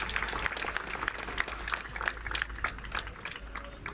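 Audience applause at the Coop Gourmet cooking competition in Cortina d'Ampezzo, a steady wash of many hands clapping from a crowd, moderately distant and continuous for several seconds with no talk over it.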